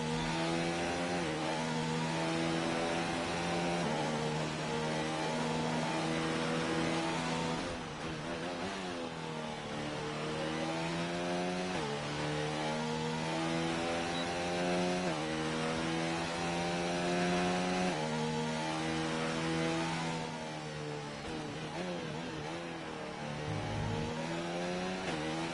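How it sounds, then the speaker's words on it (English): Formula 1 racing car engines in a PS4 esports race at the Australia round, high-pitched screaming revs climbing and dropping through gear changes, loud and continuous, with several cars passing. "Always think this the Honda powered cars, the Red Bull and the Toro Rosso, sounds so different from"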